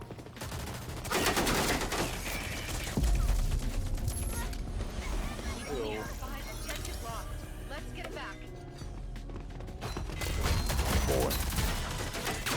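Rapid bursts of gunfire from the Rogue Company video game, dense and loud through most of the stretch, with someone talking over the shooting and game music.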